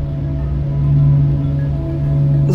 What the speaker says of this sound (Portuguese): Aqui está o som de suas vibrações criadas por seus loops, ondas, erupções e outras atividades.